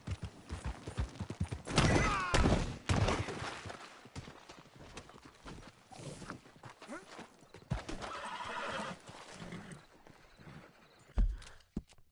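A horse in Red Dead Redemption gallops with rapid clip-clop hoofbeats and lets out a loud whinny and snorts along the way. The hooves sound close and vary in loudness over a game soundscape.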